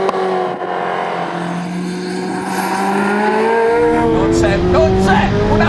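Ferrari F40 supercar engine roaring loud and close with a sustained rising drone that climbs in pitch, then rougher bursts near the end, while a voice speaks over it.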